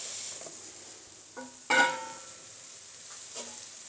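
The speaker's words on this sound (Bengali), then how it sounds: "এখন একটু বেগুনগুলো দিয়ে একটু নাড়াচাড়া করে দিচ্ছি" Eggplant pieces stir-fried in a pan for an eggplant-and-shrimp dish: a faint steady sizzle with a few soft scrapes and one sharper clatter of the spoon against the pan, no talking.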